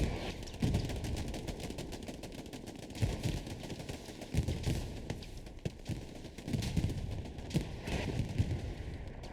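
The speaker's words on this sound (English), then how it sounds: "Oh, that was a nasty artillery shot." Artillery and gunfire in the World War II shooter game Hell Let Loose, a dense, continuous crackle of distant rifle and machine-gun shots punctuated by heavier booming blasts across a competitive match.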